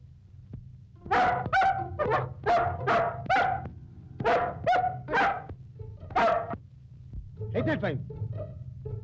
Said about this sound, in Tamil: என்ன ஸ்டேஷனுக்குள்ள நாய் வந்துருச்சே?